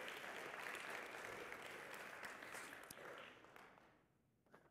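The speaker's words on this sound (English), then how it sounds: "So let's give Mayor Cow a round of applause for sharing that with us." A church audience gives a round of applause, a steady wash of clapping that holds for several seconds, then thins and fades out near the end.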